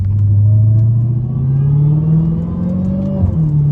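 A Dodge Hellcat revs hard while sliding in a rainstorm, its deep engine note rising steadily in pitch, loud and close, with a brief dip near the end before it picks back up.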